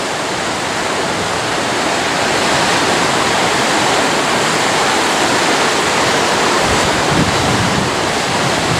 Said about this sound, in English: There's something special about the sea and the noise it makes.